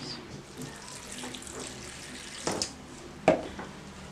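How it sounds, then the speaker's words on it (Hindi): Water trickles and splashes faintly in a quiet kitchen space, with a couple of brief louder clinks or splashes near the end. "पानी डालें"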